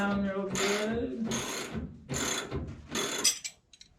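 A ratchet wrench tightens the coilover shock hardware on a 1969 Mustang in three or four rasping bursts of clicking with short pauses between them, close by, and the last burst trails off.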